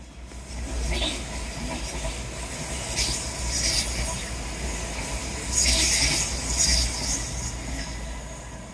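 A train rumbles past on a seawall railway, a steady loud roll of wheels with rising squeals and clattering surges as the carriages go by.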